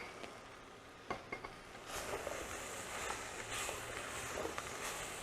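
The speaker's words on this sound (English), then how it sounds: "And I am going to mix it." Wild rice medley being stirred and mixed in a bowl or pot, giving soft scraping and clinking spoon sounds with grainy rustling, fairly quiet and steady throughout.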